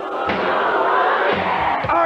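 A concert crowd at a show roars and cheers in a dense, continuous wall of sound with a few distant shouts.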